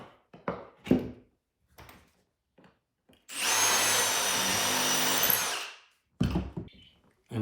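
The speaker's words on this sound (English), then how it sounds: "I'm pre-drilling and countersinking everything with that." A power drill bores and countersinks screw holes into wooden floor joists in a new off-grid cabin in a single loud, steady whirring burst of about two seconds, with quieter knocks and handling sounds before and after.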